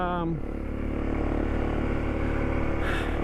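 Yamaha WR450F motorcycle engine droning steadily while riding on Fraser Island, a loud continuous near engine note with harmonic whine throughout, briefly shifting pitch at the start.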